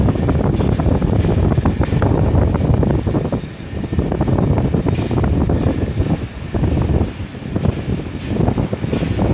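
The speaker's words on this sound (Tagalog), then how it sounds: "Napakalakas naman yung hangin." Strong wind roars and buffets steadily at a tower crane dismantling site, a dense, rumbling rush that surges and dips in gusts, loud and close without any talking.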